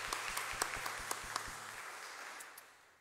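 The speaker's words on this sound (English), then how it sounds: "yeah, we can clap for them" A church congregation claps briefly during a contemporary worship service, a short burst of scattered hand claps that fades out over the next second or so, fairly faint and with no talking.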